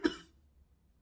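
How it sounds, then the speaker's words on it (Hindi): A single sharp cough from a man, close and loud, with a short burst that quickly fades to near silence. "सॉरी, खांसी हो रही है मेरे।"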